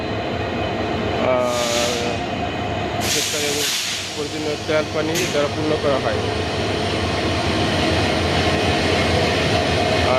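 A Bangladesh Railway diesel locomotive of the Titas Express, number 2401, sits freshly fuelled in the loco shed dock, its engine idling in a steady loud drone with bursts of hissing air, while someone narrates over it.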